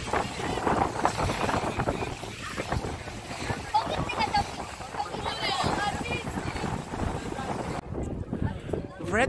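Speedboat on open sea near the UAE coast in strong wind, with heavy wind buffeting and engine and water rush throughout, while people talk excitedly over it.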